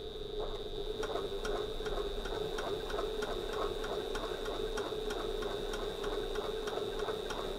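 A Janome HD9 sewing machine topstitches fabric with a steady, fast mechanical ticking and a constant motor whine, running evenly without pause and close by.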